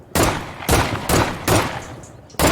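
A red-dot-sighted pistol firing in State of Decay 2: five sharp, loud single shots spaced about half a second apart, with a brief pause before the last, each ringing off in a short tail.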